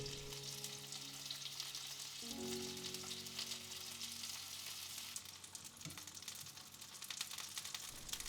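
Tofu skin rolls pan frying in hot oil, a steady close sizzle with occasional crackles and shifting tones as the rolls are moved in the pan.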